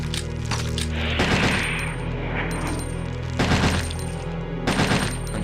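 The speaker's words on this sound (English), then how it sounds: "And start shooting." Gunfire in Resident Evil 2 aimed at plant-like ivy enemies, with several loud, booming bursts spread across the clip over a busy game soundscape.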